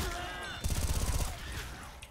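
Rapid SMG fire in the video game Left 4 Dead 2, a short burst of fast repeated shots lasting about half a second amid busy game noise.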